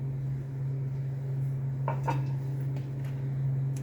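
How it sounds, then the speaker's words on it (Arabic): A frying pan is set down on a stove with a couple of light metallic clinks over a steady low electrical hum. "هجيب طاسة على النار"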